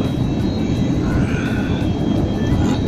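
Steady, loud airplane engine drone heard from inside the passenger cabin, a broad continuous rumble that holds level throughout with no talk over it.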